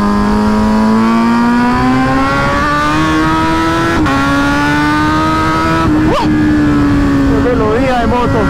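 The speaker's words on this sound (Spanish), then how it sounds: "¡Qué melodía de moto!" A Kawasaki Z900 motorcycle engine drones loudly and steadily while being ridden, its pitch climbing gradually, with a brief dip and shift around the six-second mark before it pulls on.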